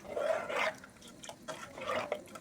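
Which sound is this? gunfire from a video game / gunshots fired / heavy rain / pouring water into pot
pouring water into pot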